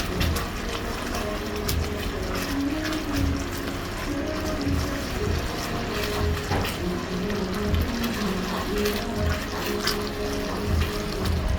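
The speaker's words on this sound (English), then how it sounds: "I'm gonna add in a bit more water" Water pours and splashes continuously into a pot of jerk-seasoned chicken sauce, a steady close-up gurgle with slight fluctuations.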